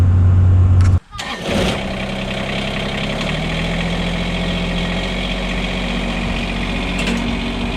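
A Kubota BX compact tractor engine rumbles steadily after a brief cutoff near the start, idling close by at a constant, even pitch with no talk.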